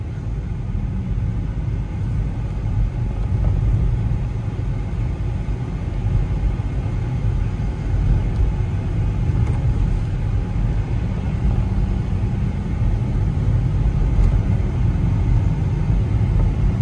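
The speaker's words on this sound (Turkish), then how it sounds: "Çekiciyle Esenler'den gelen aracımızın testini gerçekleştiriyoruz." Opel Astra F with a semi-automatic gearbox fault on a test drive, a steady low rumble of engine and road noise heard from inside the car, continuous and fairly loud with no talk.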